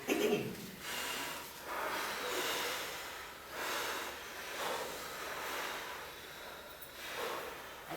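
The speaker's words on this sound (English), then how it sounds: "I did not expect people panting, but they are." A group of people panting after a power walk during a yoga training session, with heavy rhythmic breaths rising and falling in repeated waves over several seconds, close and steady with no talking.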